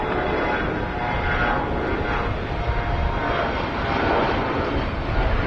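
Airplane taking off from runway 30 at Washington Dulles International Airport, a steady, loud engine roar with broadband rumble that holds constant throughout, with no voices over it.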